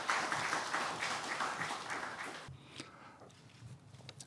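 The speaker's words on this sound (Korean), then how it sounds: "큰 박수로 맞이해 주시기 바랍니다" A crowd applauds steadily for a couple of seconds at a Korean science forum on fine dust, then the clapping drops off to scattered claps and room noise.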